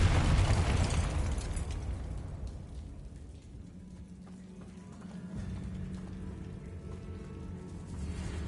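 A Confringo blasting spell in Hogwarts Legacy on PS5 bursts in a loud, broad explosion at the very start, then rumbles and fades into a low mechanical hum and soft ambient texture.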